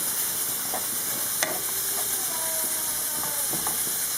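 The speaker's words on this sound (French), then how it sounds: "Donc, je vais juste remuer" A pot of couscous with sheep's head cooking over steady hiss and gentle sizzle, with a few light scrapes and clinks of a stirring spoon, close and moderately quiet.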